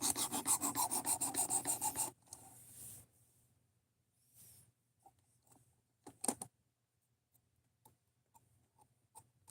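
A steel knife of D2 steel drawn across a sharpening stone: a run of about ten rhythmic rasping strokes, loud and close, then quieter scattered scrapes and taps with pauses between.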